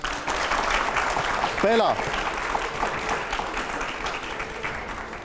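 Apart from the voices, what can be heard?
studio audience applause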